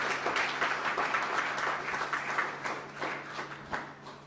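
Church congregation applauding during a Spanish-language Sunday school service in Bonaire, a steady patter of many hands clapping throughout, moderately loud and fairly close.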